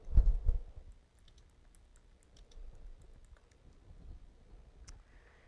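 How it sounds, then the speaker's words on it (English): Computer keyboard typing: a short burst of key clicks, then sparse, light taps and clicks spread over a few seconds in a quiet room. "I can start typing."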